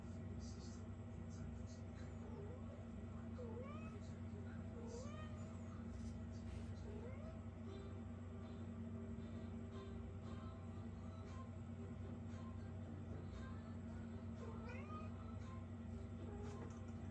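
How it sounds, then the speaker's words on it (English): Domestic cat meowing faintly and repeatedly over a steady low mechanical hum indoors, several short plaintive calls scattered throughout. "I have a cat visitor again"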